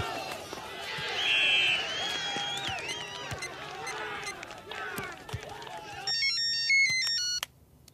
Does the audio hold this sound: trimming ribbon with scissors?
no